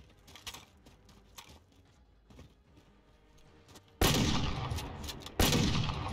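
Gunfire in Call of Duty Warzone, sparse faint shots and clicks at first, then two sudden loud close blasts near the end with a sustained roar.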